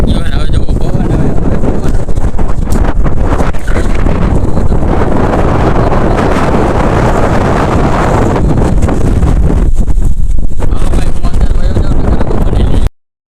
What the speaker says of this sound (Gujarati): હવે જોવો પવન આવે